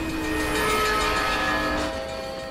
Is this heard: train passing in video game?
yes